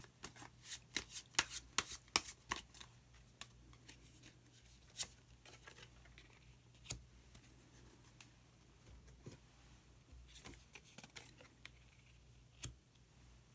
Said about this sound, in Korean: 마지막으로 오셔젠 카드 한 장 더 뽑아보도록 하겠습니다.